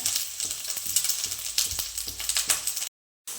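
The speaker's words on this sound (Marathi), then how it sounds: "तो कांदा आपल्याला लालसर परतून घ्यायचा आहे" Sliced onion sizzles and fries in a pan, a steady bright hiss broken by stirring scrapes, close and loud with no talk, cutting to a brief silence near the end.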